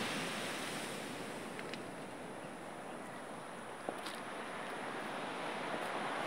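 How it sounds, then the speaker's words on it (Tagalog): Continuous roar of large storm-driven ocean surf breaking on the beach at Dingalan, Aurora, at dawn, loud and steady, with wind buffeting the microphone. "Malayo pa yung bagyo, malalaki na ang alon."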